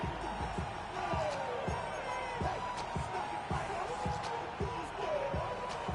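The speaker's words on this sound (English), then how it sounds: "The crowd cranking it up another notch before 3rd and long." Football stadium crowd roaring and cheering before a third-and-long play, a dense continuous wall of noise with sharp thumps and claps, under a commentator's voice.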